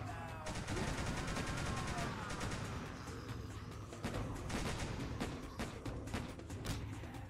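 Rapid gunfire from the zombie shooter game Meteorite Z: The Apocalypse, sustained bursts of automatic shots with distinct sharp cracks rattling on continuously and loudly for the whole stretch.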